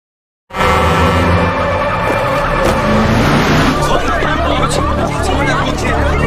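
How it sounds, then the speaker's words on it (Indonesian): A truck brakes suddenly with a loud, harsh screech that starts abruptly and sustains against a wash of voices and street noise. "tiba-tiba sebuah truk berjalan di depannya. Untung saja, truk itu mengerem tepat waktu."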